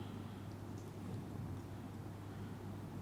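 Steady patter of rain with a low rolling rumble of thunder, faint and continuous throughout, with no voices.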